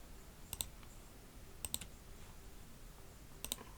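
Computer mouse clicks while editing in Photoshop, three quick double-clicks spaced about a second apart, crisp and close over a quiet room.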